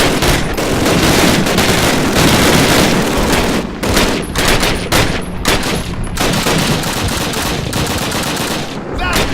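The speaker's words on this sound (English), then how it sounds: "Suppressing fire on those 42!" Loud, sustained automatic gunfire and explosions from the Call of Duty 1 video game on Hardened difficulty, with dense rapid bursts laying down suppressing fire, close and overwhelming throughout with no clear speech.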